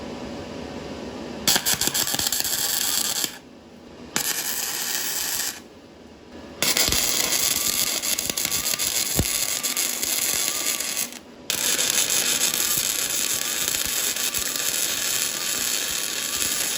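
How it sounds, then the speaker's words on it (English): Steel bracket being MIG welded to thick steel with a YesWelder MIG 250 Pro, a loud steady crackling buzz in several bursts separated by short pauses, close up with no talk. "I will weld this. I weld this bracket on because it's the same thickness."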